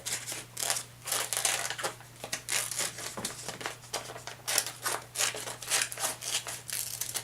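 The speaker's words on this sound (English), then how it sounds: "See how I'm turning the paper as I cut?" Scissors cut paper in a close, quiet series of crisp snips and rustles. The paper is turned while cutting, giving an uneven rhythm of short bursts.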